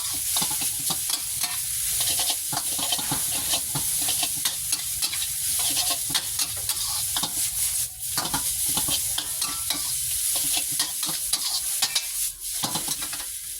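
Instant noodles with egg and vegetables being stir-fried in a wok, a steady loud sizzle with constant scraping and stirring strokes of the spatula, close up and continuous with no talking.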